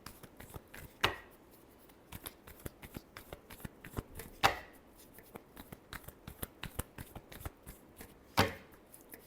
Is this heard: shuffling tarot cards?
yes